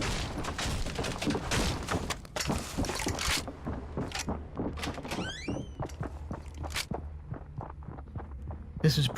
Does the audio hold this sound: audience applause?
no